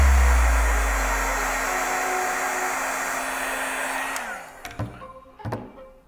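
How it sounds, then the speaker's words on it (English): A heat gun blows hot air onto sneaker sole shields, a loud steady whooshing hiss that winds down after about four seconds, followed by a few handling clunks. "For this step, you're gonna need to use a heat gun to apply heat."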